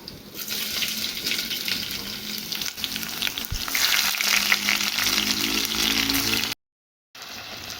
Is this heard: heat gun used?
no